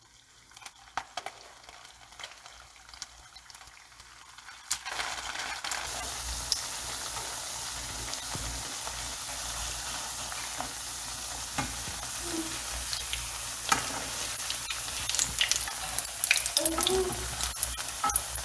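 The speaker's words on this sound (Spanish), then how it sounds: "las vamos a llevar a freír en aceite muy caliente" Potato and cheese cakes drop into very hot oil, and after a quiet start a steady, bright sizzle and crackle of frying fills the rest, with occasional pops and light stirring sounds close by.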